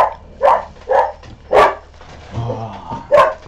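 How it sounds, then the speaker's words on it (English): A dog barks indoors in a run of four loud, close barks spaced about half a second apart, with a quieter low grumble between the last two. "Don't bark."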